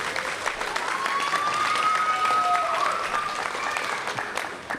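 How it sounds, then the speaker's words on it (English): An audience at a pool reopening celebration gives a sustained round of applause for the lifeguards, a dense, steady clapping from a crowd that swells and holds for several seconds. "please give them another round of applause"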